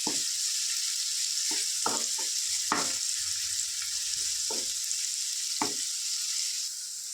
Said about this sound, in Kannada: ಈರುಳ್ಳಿ ಸ್ವಲ್ಪ ಗೋಲ್ಡನ್ ಕಲರ್ ಬರೋವರೆಗೂ ಚೆನ್ನಾಗಿ ಫ್ರೈ ಮಾಡ್ಕೊಂಡು ಬಿಡೋಣ.